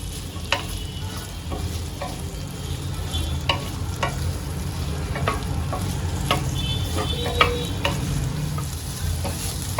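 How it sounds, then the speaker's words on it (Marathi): Sliced okra sizzles and crackles steadily in hot oil in a kadhai over a medium-low gas flame, with occasional stirring scrapes and clicks throughout; no voices. "तेलामध्ये चांगलं मी भेंडीला थोडस फ्राय करून घेईल"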